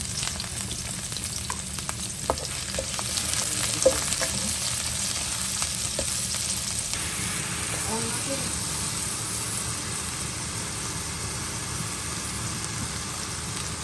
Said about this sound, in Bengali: প্রথমে তেল দিয়ে দিয়েছি, এখন একটু পেঁয়াজ দিয়ে দেবো। একটা কাঁচামরিচ দিয়ে দেবো।